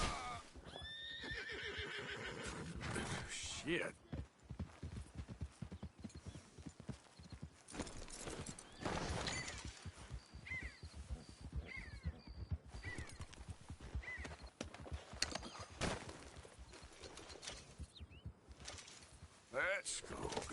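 Horses in Red Dead Redemption 2 whinny and clop their hooves in a steady, close-up rhythm through the scene, while people talk over them.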